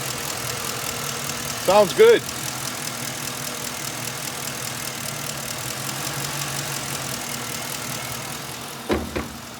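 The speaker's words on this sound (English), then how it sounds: "Listen to the engine." A 2008 Ford Crown Victoria Police Interceptor with collision damage and 164,000 miles idles on fuel poured directly into the intake, giving a low, steady engine hum with a couple of brief louder bumps and a short spoken remark.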